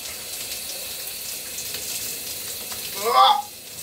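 Steady hiss of running water like a shower, with a brief louder splash or squeak near the end.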